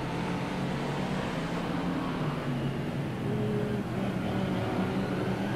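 Stock car number 59 racing past on a dirt track at a 1999 Auckland teams championship, a steady broad engine roar from a distance with no pauses.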